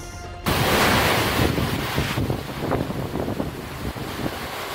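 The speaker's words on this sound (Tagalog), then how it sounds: "Malakas na ulan at hangin ang naranasan sa ilang bahagi ng Lawag, Ilocos Norte." Strong typhoon wind and rain in Laoag, Ilocos Norte, blast against the microphone in a loud, constant roar with gusty buffeting and no speech.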